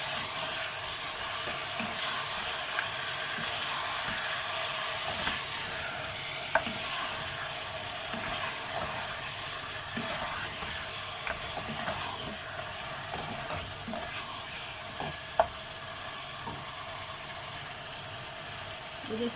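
Mutton and masala with added yogurt fry in a pan for nihari, giving a constant sizzle with intermittent scraping and stirring clicks from a spoon against the pan.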